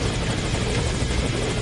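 A helicopter in the game Metal Gear Solid V thrums with a dense, continuous rotor chop and engine roar, loud and close throughout, with no talk.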